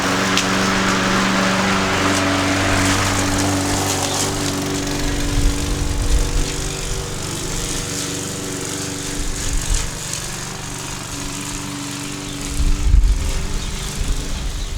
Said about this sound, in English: All right, we just finished mowing.